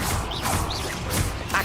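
A Confringo fire spell in Hogwarts Legacy lands in short, punchy bursts of blast noise, repeated two or three times in quick succession over a busy game-sound bed.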